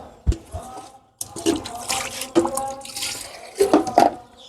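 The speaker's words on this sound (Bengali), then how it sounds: "এই যে দেখো পানিটা বইরা নিলাম" On a poultry farm, water is scooped with a mug and poured into a container to mix a chicken vaccine. Close, splashy pours come in several bursts with short pauses between them.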